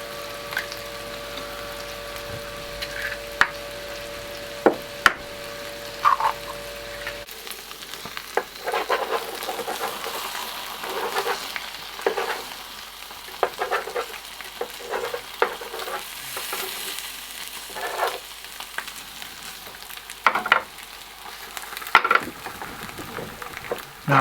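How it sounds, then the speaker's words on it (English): Eggs fry in a pan with a steady close sizzle, broken by scattered sharp clinks and scrapes of a utensil against the pan. "I'll crack a couple of eggs in"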